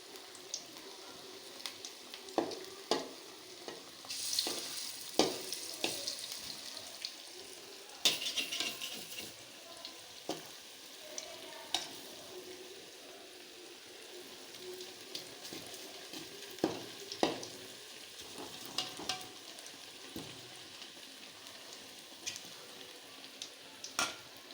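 Cassava vada frying in a pan of oil: a soft, steady sizzle broken by scattered scraping clicks as the pieces are stirred and turned, quiet and without speech.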